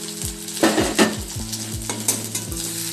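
Spices tipped into a pan of prawns for a curry hiss sharply as they land and are stirred in, with a busy crackling sizzle and a couple of stronger scrape-and-splash bursts up close. No one speaks.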